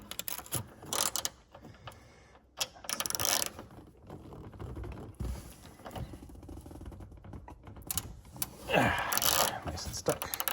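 A socket ratchet works a stuck nut off the rear window regulator of a BMW E46 330Ci convertible, producing quiet bursts of clicking pawl ratchets and creaky mechanical grinding at close range, separated by pauses, with some talk in between.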